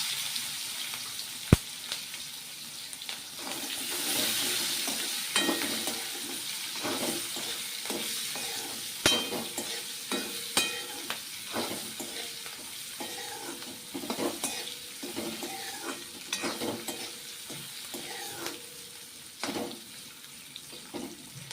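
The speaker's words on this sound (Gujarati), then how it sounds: "ત્યારબાદ મરચાં એડ કરી દઈશું." Red and green chillies fry in a pan while being stirred, a soft sizzle broken by repeated scraping and clinking strokes of the utensil, close and moderately loud.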